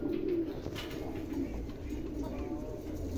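Soft, low cooing of Andalusian pigeons close by, a few rolling coos repeating over quiet background noise.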